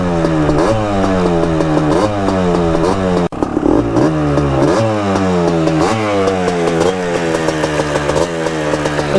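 A Kawasaki Tecate 4 250cc two-stroke quad runs loud and close, burning off coolant, its raspy engine rising and falling in repeated revs with a brief cut near the middle.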